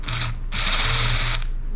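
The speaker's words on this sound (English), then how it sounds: "I'm going to be careful with the drill" A power drill whirs in two close, steady bursts, a high whine with a grinding edge, as screws are driven out of a 1982 Yamaha MX 100 motorcycle.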